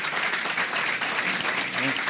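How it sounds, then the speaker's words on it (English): A hall audience at a live talk applauds, a thick, continuous patter of many clapping hands with faint voices mixed in. "give a big round of applause to these folks for coming"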